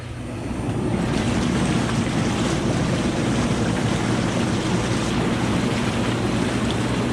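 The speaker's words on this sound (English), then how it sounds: "I'm gonna go ahead and set the bubbles off" Continuous heavy bubbling and rushing water from hot tub jets, water at 104 degrees and air about 60, a dense steady churn starting up and holding at full strength.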